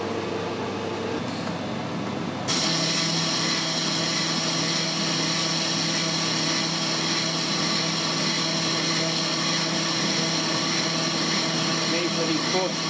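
A lathe slowly cuts a small hole through a spindle, a steady mechanical whir and hum that holds constant and close, with a change in tone as the cut engages.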